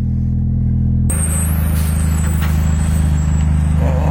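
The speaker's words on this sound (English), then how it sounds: "gotta love the amount of traffic that's caused by construction in Miami" Dense Miami city traffic slowed by construction, with trucks rumbling nearby and a sharp air-brake hiss; a steady low engine drone fills the scene, and a brief high squeal cuts in.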